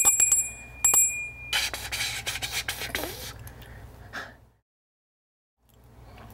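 A collectible bell figurine rings with a few bright, sharp dings near the start, then scraping and handling noise follow, then a stretch of near silence.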